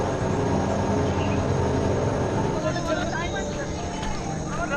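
A train shunts at a station, a heavy continuous rumble of wheels and carriages up close with faint squeals. People talk over it.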